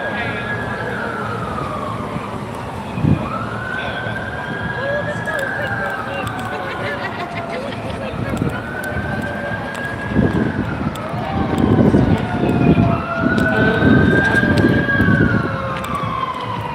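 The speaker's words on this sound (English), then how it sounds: "I hear more sirens." Emergency vehicle sirens wail along a city street during an ICE protest in Portland, Oregon, several rising and falling tones repeating over crowd noise, growing louder toward the end.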